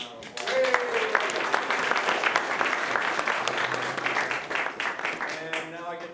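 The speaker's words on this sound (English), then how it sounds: "let's give them a big round of applause" Lecture audience applauding the evening's sponsors, a loud, dense round of clapping that swells quickly and holds steady, with a voice calling out over it near the start and again at the end.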